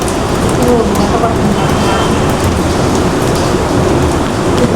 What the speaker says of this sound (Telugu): చినుకులు చినుకులు చినుకులు పడుతున్నాయి.